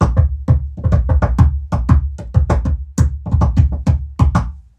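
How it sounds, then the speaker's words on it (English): Rapid, irregular knocks and thumps of hands striking a piano or table come loud and close, with short dry hits in quick clusters and no talking. "Just bashing your piano or your table."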